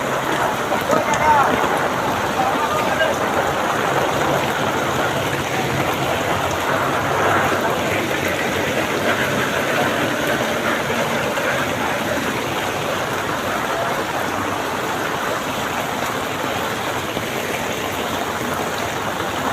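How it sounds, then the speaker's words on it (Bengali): Heavy rain pouring steadily in Narayanganj, a loud continuous wash of drops hitting surfaces, unbroken throughout with no other clear sounds. "চারিদিকে শুধু বৃষ্টি, পানি আর"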